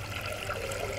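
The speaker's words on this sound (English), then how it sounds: "And now we're going to go in with our water for our pasta" Water pours steadily into a Thermomix mixing bowl for cooking pasta, a continuous soft splashing trickle with no talk.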